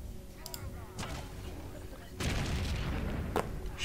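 Gunfire and booming volleys in Age of Empires: The Conquerors during a campaign battle, a dense rumbling barrage that swells louder about halfway through and carries on steadily with one sharp crack near the end.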